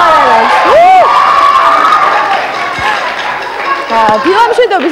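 A studio audience on a Georgian morning TV show breaks into loud, sustained cheering and shouting with whoops, the crowd noise filling the space up close.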